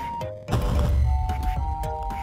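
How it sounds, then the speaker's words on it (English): A single deep, booming explosion in Minecraft bursts out loud and close, then trails into a low rumble, with soft electronic game tones chiming around it. "It's a normal explosion."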